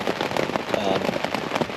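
Steady rain patters on a tent during a wild camping night, a dense close hiss of drops with scattered sharper taps, no voices.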